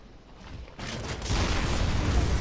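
Heavy cannon fire in Bloodborne, a deep booming blast that swells into a sustained, loud rumbling roar filling most of the moment, with no voices over it.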